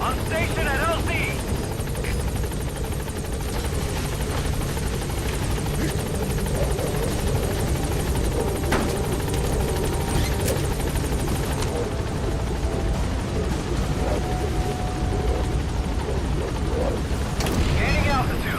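The Pequod helicopter in a video game comes in to a landing zone, its rotor a loud, dense, continuous drone filling the whole stretch, with a voice speaking over it.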